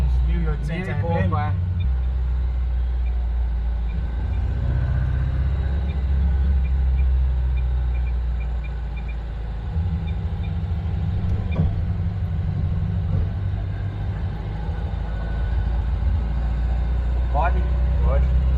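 A 1957 car's engine runs steadily at around 1800 RPM, a continuous low rumbling drone close by, with people talking over it throughout.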